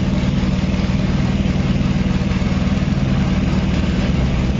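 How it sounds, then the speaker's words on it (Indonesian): A Yamaha Fino 125 scooter engine with a rough, noisy motor idles steadily, a continuous low rumble with a fast even chug, close by and alone. "Berarti fix motor ini berisik, bukan kehabisan oli"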